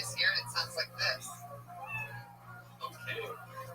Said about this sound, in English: you know your minute's up when you hear the sound of a kitty